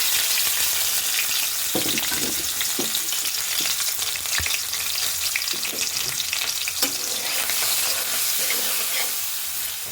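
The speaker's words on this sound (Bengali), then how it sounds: "এই যে আমি মশলা মাছ একসাথে দিয়ে দিচ্ছি।" Shrimp with spices frying in hot oil, a dense continuous sizzle with scattered stirring scrapes and clicks held close and loud throughout.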